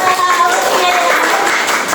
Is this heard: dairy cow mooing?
no